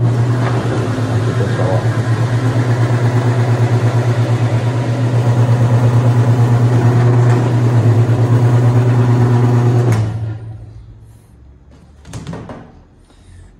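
A Skymsen PA-7 Pro food processor grates and processes cheese in a pizzeria kitchen, a loud steady motor hum running for about ten seconds before cutting off abruptly, followed by a few faint clunks and a brief spoken word.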